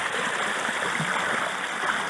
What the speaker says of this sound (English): that is a dang old stream of water coming out of there.